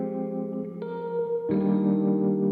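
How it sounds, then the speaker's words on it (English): Sustained tonal music passage drenched in a mono reverb wash from the Super VHS lo-fi plugin, a dense smeared tail swelling as new chords enter, loud and steady with no talk. "It's just like a mono reverb, and it's just so cool."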